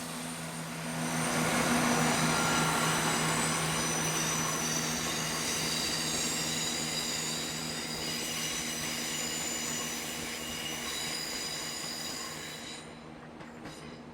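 A British Rail Class 168 diesel multiple unit train rolls past steadily for several seconds, its engine drone and wheel noise holding level before easing off at the end.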